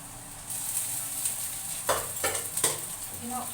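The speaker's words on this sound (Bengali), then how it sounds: "গাজর বিন ভাজা হয়ে গেছে, এখন ভাতটা দিয়ে দিব।" Rice being stirred into a pan of fried carrots and beans, with a steady soft sizzle and a few scraping stirs of the spatula, fairly close and without talk.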